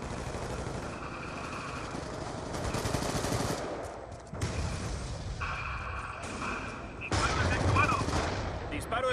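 Gunfire in the shooter Black Ops 2, with bursts of automatic fire and shots coming in loud stretches broken by brief lulls, mixed with game effects and occasional voice callouts.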